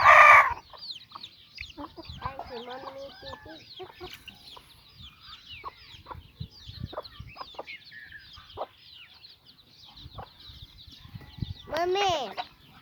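Hens and small chicks on a farm cluck and peep in a busy, close flurry of short calls, with a louder hen or rooster call at the start and end, and a voice talking briefly.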